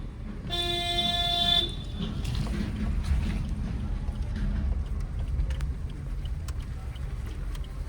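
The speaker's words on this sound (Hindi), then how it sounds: "लॉन्ग हॉर्न प्रेस करो" A long, steady car horn blast sounds at close range for about a second during a driving lesson, standing out over low road and engine rumble.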